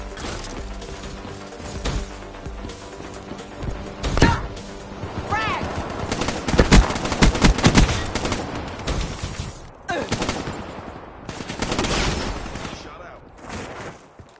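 Video game gunfire in a team deathmatch match, with repeated loud bursts and single shots that are dense in the middle and sparser later, mixed with crashes and game sound effects.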